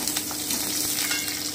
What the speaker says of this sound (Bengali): এবারে আমি আলুগুলো দিয়ে দিচ্ছি, আমি হালকা ব্রাউন করে একটু ভেজে নিচ্ছি